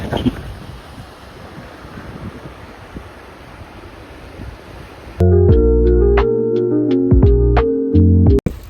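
Steady rushing surf and wind noise of waves washing onto the beach at Guhagar on the Konkan coast, cutting abruptly after about five seconds to loud tonal music.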